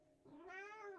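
A single short meow from a cat, quiet and unaccompanied, rising slightly and then fading after about a second.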